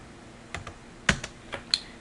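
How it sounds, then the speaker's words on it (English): A handful of light, crisp keystrokes tap on a computer keyboard, about five separate clicks spaced irregularly over two seconds, close and fairly quiet with no talking. "I'm going to type in"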